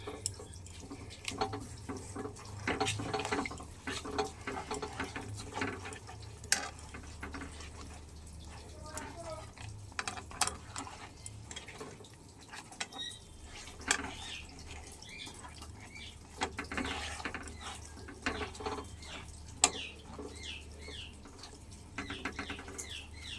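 Water runs and splashes as a mixer jar is rinsed in a kitchen and then filled, with irregular drips and clinks throughout and a person speaking over it.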